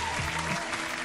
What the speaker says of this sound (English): Let's clap it up for Dawn.